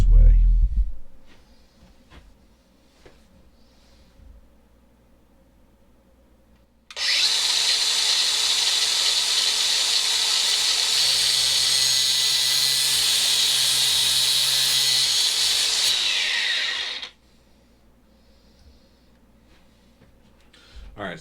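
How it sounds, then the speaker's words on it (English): A cutoff wheel grinds through a diesel heater stand pipe in a shop, a loud, sustained high-pitched abrasive whine lasting about ten seconds, with quieter shop noise before and after. "cutting off the stand pipe is the first step"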